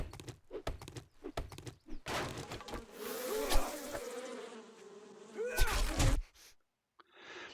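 Bees buzz in the video game 7 Days to Die, a wavering drone that swells and fades over several seconds, framed by sharp stabbing thuds and knocks before and after.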